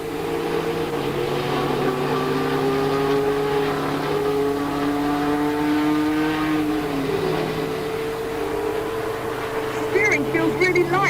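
McLaren Formula One car driving a track, its engine droning steadily and pitch climbing through the gears, loud and close from the cockpit, with someone talking over it.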